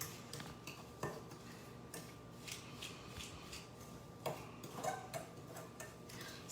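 Blueberry crumble ingredients stirred together in a bowl, quiet intermittent clinks and light scraping of a utensil against the bowl at an uneven rhythm, faint and close under steady background hiss.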